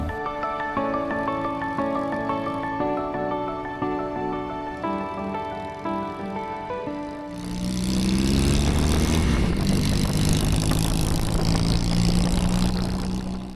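Motorcycles ride uphill along a winding mountain road in Flores on a cold morning, with engine drone building loud and steady under a musical backdrop.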